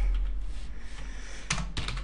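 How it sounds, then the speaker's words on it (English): Typing on a computer keyboard sounds as quick bursts of close key clicks, loudest near the end, over a faint steady background hum. "it's just my typing is terrible today"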